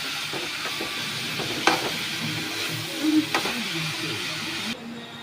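Capsicum and cabbage hiss and sizzle as they are stirred in a hot pan, a steady frying noise with a few sharp scrapes of the spatula, close and fairly loud with no talking.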